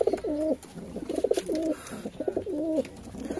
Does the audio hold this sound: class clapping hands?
no